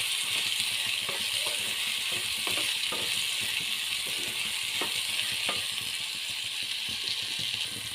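Capsicum cooks with egg in a pan on a medium flame, a steady close sizzle and fry with occasional light rattles and stirring clatter throughout.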